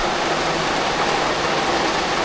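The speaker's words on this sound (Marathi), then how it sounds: "नुसता पाऊस." Heavy rain pours in a dense, unbroken roar, loud and close, with no voices over it for the whole stretch.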